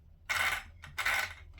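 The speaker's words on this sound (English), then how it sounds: "That noise is because it's got a brushless system and it's cogging" Brushless motor of an Axial RBX10 Ryft RC rock bouncer cogging, giving two separate bursts of gritty, scraping whir, each about a third of a second long, close and fairly loud with no talk.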